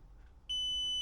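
A multimeter gives a single sharp continuity beep while probing a guitar amplifier's circuit, starting halfway through and holding steady and loud to the end.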